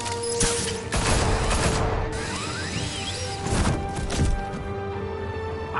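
Enemies firing guns at Batman in Batman: The Telltale Series video game, with loud cracking shots, crashes and whooshes in quick succession amid chaotic action.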